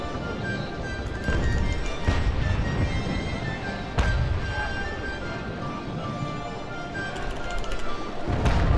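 Repeated booming ship cannon shots in the naval game Naval Action ring out over a constant game soundscape, several heavy blasts spaced a few seconds apart with a background hum.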